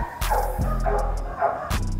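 Dogs barking and yipping in several short, sharp bursts, mid-distance, over a constant low background hum.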